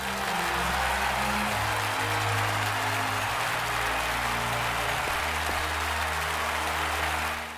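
Thundering applause from a crowd in Octopath Traveler II after a stage dance performance, a dense, steady wash of clapping that runs continuously and loudly throughout, with low musical tones sustained underneath.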